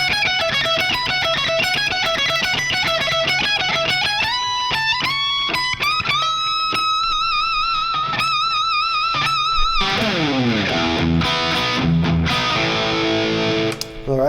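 Fast electric guitar lick from a guitar solo, played alone with a bright distorted tone, rapid descending and climbing runs giving way to heavier strummed chords near the end.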